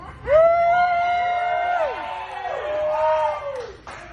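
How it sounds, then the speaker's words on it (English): A loud, sustained scream at a live stand-up comedy show, with pitched voices rising and falling for about four seconds before trailing off into crowd noise. "Fucking scream!"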